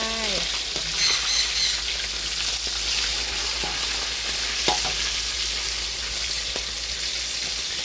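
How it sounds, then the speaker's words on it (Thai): Fish head and pieces frying in hot oil in a pan, a dense, steady crackling sizzle held close and even throughout, with a few faint clinks and no talking. "อันนี้ก็กำลังทอดปลาอยู่"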